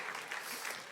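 An audience bursts into applause on its own at a talk on technical institutes and sustainability, a brief, steady wash of many hands clapping at moderate distance, with no voices over it.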